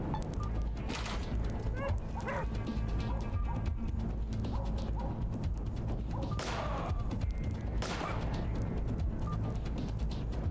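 Dog barks from the video game ATOM RPG Trudograd, a few yips and whimpers mixed with thuds and crashes over steady game music and ambience. Someone talks briefly.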